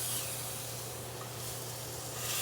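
A burger patty sizzles in a hot pan after being flipped, a steady close hiss and crackle with no talking over it.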